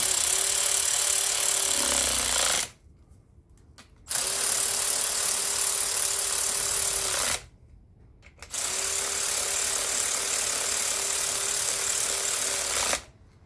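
A powered tool runs down bolts on Suzuki GT750 engine crankcase halves, giving three long steady whirring bursts separated by brief silent pauses, loud and close, no speech.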